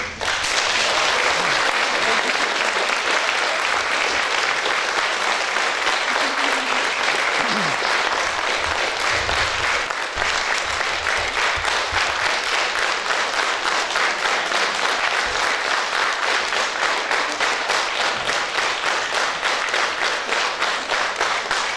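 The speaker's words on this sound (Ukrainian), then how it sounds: "давайте выразим аплодисментами нашу удячность для наших артистов сегодня" Sustained, dense applause from an audience at a Christmas concert in a church, loud and even throughout with no letup.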